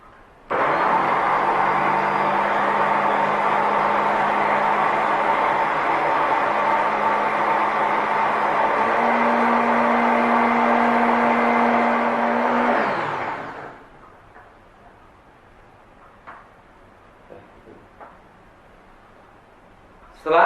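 A laboratory blender homogenizing a food sample at about 8000 RPM whirs loudly and steadily for about thirteen seconds, pitch stepping up partway, then winds down into quiet room noise with faint clicks.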